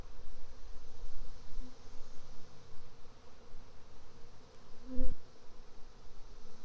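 Honey bees swarming over hive frames during an inspection make a steady, close drone of buzzing, with soft handling rustles and a brief louder bump near the end.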